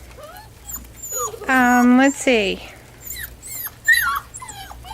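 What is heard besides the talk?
puppies whimpering in the snow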